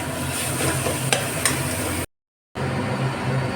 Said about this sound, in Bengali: লাল শাক ভাজা হচ্ছে